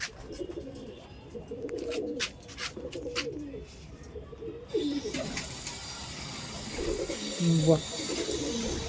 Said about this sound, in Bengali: এই একটা কালাঙ্কা পায়রা দেখাচ্ছিলাম